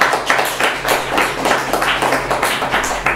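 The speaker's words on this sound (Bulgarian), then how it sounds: "Аплодисменти за Ванда" Audience at a jazz festival art exhibition applauding for Vanda, dense steady clapping from many hands, close and sustained for a few seconds.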